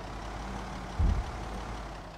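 A truck engine in the zombie-survival video game Project Zomboid rumbles low and steady, fairly quiet, with one brief heavier thump partway through.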